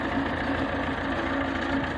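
A tractor clearing snow runs with a steady mid-pitched engine drone, close and continuous, with no voices.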